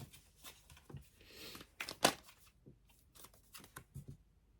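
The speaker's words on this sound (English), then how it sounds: "I want to get one more card, though." Tarot cards are shuffled and drawn by hand, with soft riffling and flicking bursts and one sharp snap near the middle, close and quiet with no talk.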